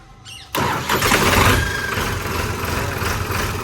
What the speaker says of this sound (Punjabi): ਸਟਾਰਟਿੰਗ ਬਹੁਤ ਖਤਰਨਾਕ ਆ ਟਰੈਕਟਰ ਦੀ